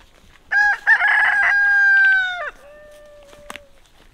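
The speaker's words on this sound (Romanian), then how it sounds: "Ia uitați ce cocoș santoș avem." A rooster on a rural Maramureș farm in autumn crows once, loud and near, a long drawn-out cock-a-doodle-doo that rises and then trails off, followed by a few faint clucks and a quiet farmyard background.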